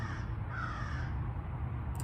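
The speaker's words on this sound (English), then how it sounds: "Loud bird." A loud crow caws once in a drawn-out, harsh call over a low background rumble, with no talking.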